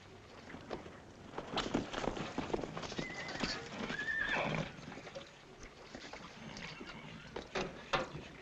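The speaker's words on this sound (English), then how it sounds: "I need a couple of fresh horses." Horses snorting and neighing nearby, with hooves shuffling and clopping intermittently over a quiet outdoor background.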